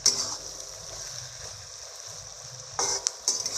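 A spice masala is stirred in a pan over low heat with a quiet, steady sizzle. Two short louder bursts of scraping and crackling come near the end.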